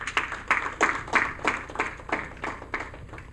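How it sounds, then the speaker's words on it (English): A few people at a corporate fund relaunch event give a round of applause for dignitaries, with about ten distinct, evenly spaced claps sounding close and fairly sparse over a low hum. "please make welcome with a round of applause for all the dignitaries in our midst"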